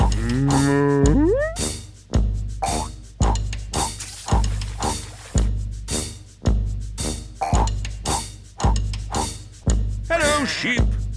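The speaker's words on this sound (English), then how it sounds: "Say moo to the cows." Cartoon cows in the Hey Duggee Exploring App train game give a series of repeated moos over a steady rhythmic chugging music bed, with a short whistle-like sweep at the start and near the end.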